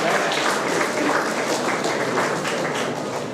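A crowd of trainees in a tech training session claps steadily for a correct quiz answer, producing a brief, even wash of applause with no talking.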